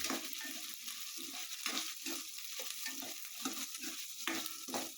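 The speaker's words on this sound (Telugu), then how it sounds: "ఒక నిమిషం పాటు ఈ ఆనియన్స్ వేయించుకున్నాము." Onions for a beetroot fry sizzle in a pan with a constant hiss, and a spatula stirs them in a regular rhythm of soft scraping strokes.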